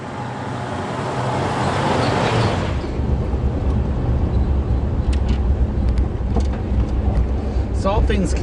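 A 2006 Jeep TJ with a lift kit and big tires driving, a steady loud road and engine drone with tire roar from inside the cab, joined by occasional clicks and rattles.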